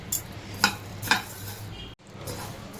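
Coriander seeds roast in a hot pan with a soft dry rattle, and three sharp metallic scrapes of a spoon ring out at even intervals.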